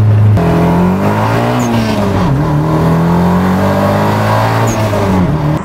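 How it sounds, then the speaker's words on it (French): A Nissan 200SX S13 with Bilstein coilovers accelerates at full throttle in second gear, its engine loud and close, the pitch climbing steadily, dipping at a brief lift, then rising again, with no speech. "on accélère, pied planche"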